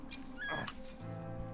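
In the WWI video game Valiant Hearts, a dog gives a brief, faint whimper and yip over soft game music.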